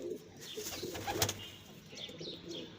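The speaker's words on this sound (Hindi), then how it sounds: "बहुत ही अच्छे और बड़े साइज़ के कबूतर हैं" Soft, low pigeon coos from large-sized birds kept in a hot rooftop loft, heard close but faint amid rustling and a few brief higher chirps.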